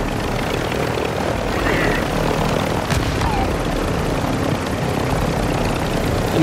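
In-game helicopter in a multiplayer shooter, a loud steady rotor and engine drone filling the whole stretch, with players talking over it.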